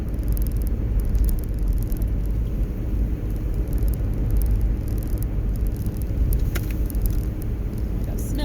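A 2004 Ford Explorer cruising at about 50 mph in snowy weather, a steady low road rumble and engine drone heard from inside the cabin, continuous with no speech.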